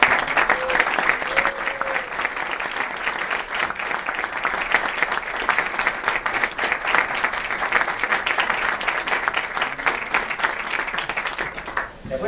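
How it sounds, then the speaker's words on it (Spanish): Sustained audience applause at a cultural festival performance, dense and steady clapping filling the whole stretch without a break, fairly loud and close, with no speech over it. "así que pido un fuerte aplauso"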